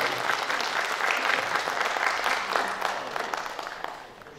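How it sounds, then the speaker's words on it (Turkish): Sustained audience applause fills a memorial evening hall, dense and steady clapping that fades gently toward the end. "Efendim alkışlarımızla."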